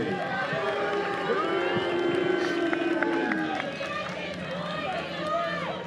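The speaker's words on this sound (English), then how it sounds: "And the North Oldham crowd getting into it a little bit." The North Oldham crowd cheers and shouts at a Little League baseball game between La Grange, Kentucky and Hamilton, Ohio, a steady, fairly distant roar of voices heard beneath continuous commentary.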